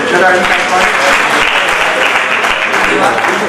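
Applause from the audience at a Hindi literary gathering, welcoming an author to the stage: dense, steady clapping that fills the space throughout, close and loud, with no pause.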